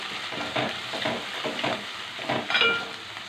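Tomato and onion paste curry with turmeric sizzles steadily in a pan, with repeated scraping stir strokes at a moderate, close level.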